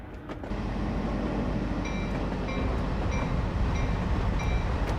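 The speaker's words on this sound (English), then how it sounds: "Another freight train going on through." A long freight train rolls past in Train Simulator 2020, a steady dense rumble with rail noise holding throughout, loud and close with no talk.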